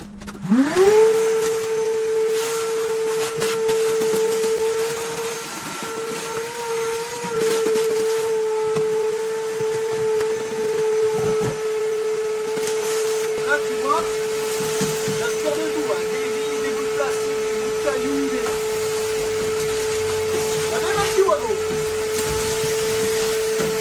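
A Kärcher NT 22/1 battery vacuum cleaner running inside a van, a loud steady motor whine held throughout with shifting suction noise as the nozzle moves into corners, while someone talks over it.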